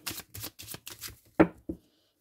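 Divination cards from a Yagel Didier oracle deck shuffled during a cartomancy reading, with a run of soft, rhythmic riffling bursts followed by two sharper taps as the cards settle, close and alone.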